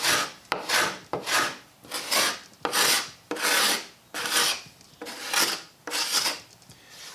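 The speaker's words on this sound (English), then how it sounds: "Just spend a couple of seconds here with a scraper on the damaged area." Hand scraper rasping across the water-damaged finish of an antique wooden buffet, about nine steady back-and-forth strokes in an even rhythm, close and fairly loud with no talk.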